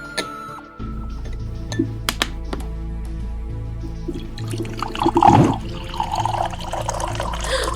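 Water pours into a glass or vessel in a quiet room, with a few soft clinks and drips followed by a brief gurgling pour and a low steady background hum.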